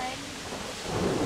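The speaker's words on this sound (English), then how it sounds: "There's thunder, there's sheets of rain!" An intense outdoor thunderstorm: heavy rain hisses while a low rumble of thunder swells toward the end of the short burst.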